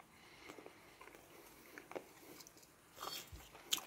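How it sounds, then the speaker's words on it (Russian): Dried taranka fish being chewed, with soft close crunches and bites scattered through quiet room tone, turning louder and crisper toward the end. "первый кусочек аккуратно жуем"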